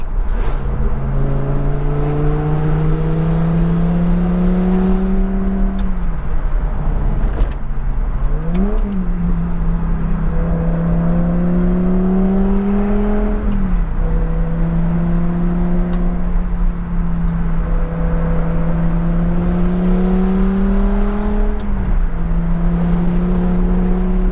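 A Lamborghini Gallardo's loud valved exhaust holds a steady, rumbling idle, broken by several sharp revs that rise and fall, close and alone without voices.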